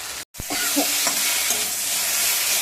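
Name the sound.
spices being stir-fried in a pan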